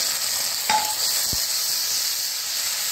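Garlic and ginger paste sizzles in a pan of already fried onions while an egg curry is cooked, a continuous close hiss with a couple of faint clinks and no speech.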